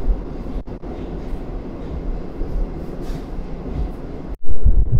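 A Moscow metro train rumbles steadily through a tunnel, a dense, loud roar with brief dips and a sharp surge of noise near the end, no voices.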